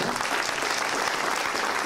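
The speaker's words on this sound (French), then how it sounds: "je tiens à ce qu'on l'applaudisse une deuxième fois" Steady, dense applause from a large crowd at a New Year's greetings ceremony, sustained throughout without a break.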